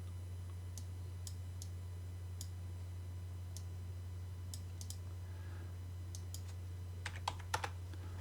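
Keyboard typing while entering dimensions in Autodesk Inventor 3D CAD software: sparse single key clicks spread over several seconds, then a quicker cluster of keystrokes near the end, over a steady low electrical hum.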